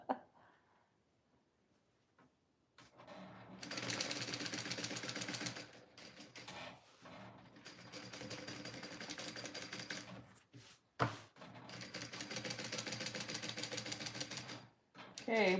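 Sewing machine stitching a waxed canvas apron pocket, running in steady rapid bursts with short pauses between runs, loud and close, after a quiet start.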